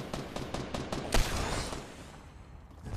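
Gunshots in a video game: a quick run of evenly spaced cracks builds into one louder, sharper blast, then fades into a quieter stretch with distant noise.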